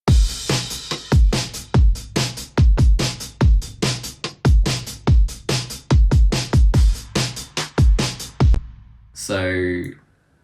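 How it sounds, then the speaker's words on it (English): Drum pattern for a hip-hop beat built in Ableton, punchy kicks and snappy hits repeating in a steady loop, loud and close, ending with a short tonal stab after the drums stop. "The drums sound like this."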